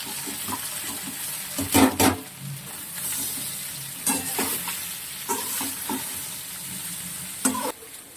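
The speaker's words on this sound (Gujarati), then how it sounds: "આપણા મુઠિયા વઘારાઈ ગયા છે" Muthiya stir-fried in a tempering of cumin, dried red chillies and curry leaves sizzle steadily while a spoon scrapes and tosses them in irregular clanking strokes, close and moderately loud.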